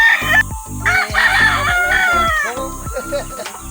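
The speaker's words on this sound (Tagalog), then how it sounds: "Ganda namang manok mo ito, boss, ha?" A gamefowl rooster at a backyard gamefarm in Abra crows loudly nearby, its drawn-out calls mixed with shorter clucks and other fowl sounds. Background chatter and rustling run underneath.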